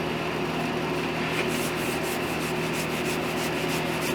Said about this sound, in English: This is just going to soak up the stain. I can tell by the way it's brushing on too.